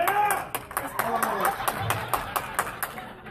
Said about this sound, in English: And I got one guy clapping by himself